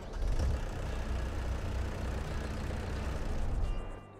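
A John Deere 9R tractor engine in a farming video game rumbles steadily at a low idle, a constant close diesel drone with no talk over it.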